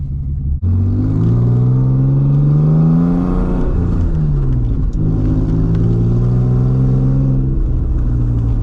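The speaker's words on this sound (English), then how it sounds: "That was a quick little 30-mile-an-hour takeoff." A Nissan 300ZX pulls away from a stop with a loud, close engine note that climbs in pitch, drops as it shifts gear, then climbs again as the car keeps accelerating.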